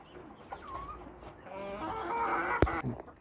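A black hen on a small home poultry setup clucks in short, soft calls over background noise, with a few other bird sounds and a sharp knock near the end.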